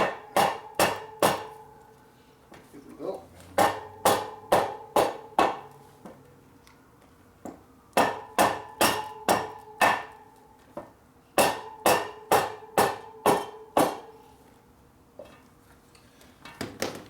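Repeated sharp metallic hammer blows ringing out in quick rhythmic groups with short pauses between, close and loud, fitting a part onto a Harley-Davidson Sportster; a voice speaks briefly.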